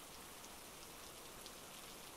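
Steady, even rain with a dense hiss of drops, heard on its own at low level with no voices.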